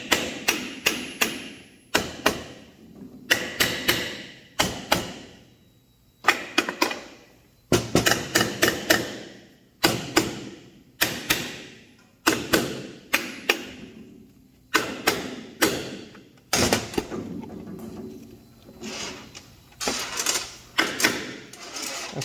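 Repeated hammer taps drive a Ford Ranger M5R1 transmission part down onto its dowel pins, giving sharp metallic knocks that come in quick clusters of two to four, close and fairly loud, with short pauses between bursts.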